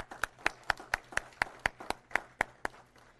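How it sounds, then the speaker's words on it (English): A church congregation applauds, heard as faint, distant claps falling in a steady, evenly spaced beat, about four per second, with no talking. "let's applaud that"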